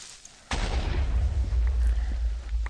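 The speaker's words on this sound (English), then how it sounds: "Explosions, explosions, explosions. We've had 2 in like 2 minutes." Creeper explosions in a video game: a sudden loud blast followed by sustained rumbling, booming and crackling debris, with no talking.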